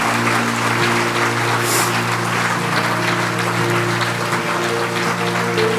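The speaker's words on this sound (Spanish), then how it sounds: "Vamos a darle un aplauso al Señor." Church congregation applauding together in a hall, dense sustained clapping throughout with a steady tonal hum from the sound system underneath.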